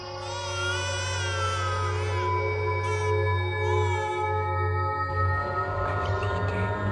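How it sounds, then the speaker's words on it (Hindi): A baby's cry in a haunted room in a Hindi-dubbed horror film, a wavering, high-pitched wail rising and falling in long phrases over a steady low hum, loud and near, with no talk. "आज भी इस कमरे से बच्चे के रोने की आवाज आती है"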